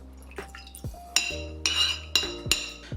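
A spoon clinks sharply against a small dish several times while miso paste is thinned with a splash of water, bright metallic taps with faint liquid sounds in a quiet kitchen.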